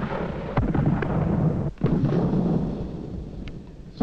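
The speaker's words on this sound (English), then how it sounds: "They're mortar bombs that scare me, the way they come down on you." Mortar bombs exploding during the siege of Fort Stanwix: deep, rumbling booms rolling continuously, with a few sharper thuds standing out, heavy and fairly close throughout.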